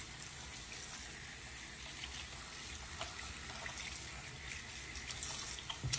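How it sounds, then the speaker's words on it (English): Running tap water gushes in a soft, continuous stream while a Texas Instruments TI-89 calculator is washed with soap and water, staying quiet and steady without talk. "just wash everything with soap and water."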